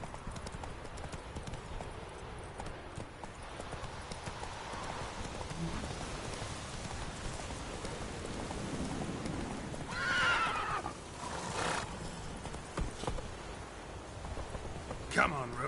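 Roach, a horse in The Witcher 3, trots with steady clip-clopping hooves over a rainy backdrop, then gives a clear whinny partway through; occasional voices sound beneath.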